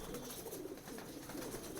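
Pigeons, one white and one dark-patterned, coo softly on a high rooftop in Prayagraj, a low continuous murmur running throughout with faint outdoor noise and no talking.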